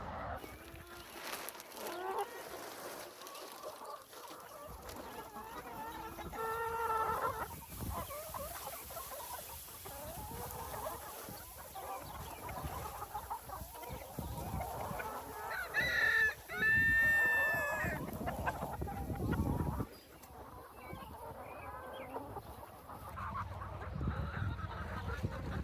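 Homestead chickens in a coop cluck and squawk while getting treats, with a rooster crowing once and a goose-like honk in the mix. The flock sounds busy and fairly close, over a soft outdoor background.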